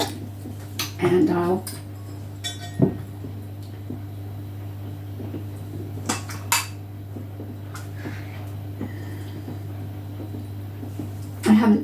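Chili being served from a pot into a small bowl with cutlery, making a few brief metallic clinks and scrapes spread through the clip, close by, against a steady low background hum, with a little speech.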